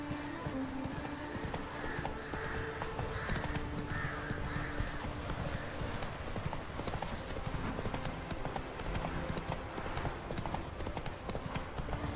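Roach the horse trots in The Witcher 3: Wild Hunt, hooves clip-clopping in a steady rhythm over game ambience, with a voice speaking briefly.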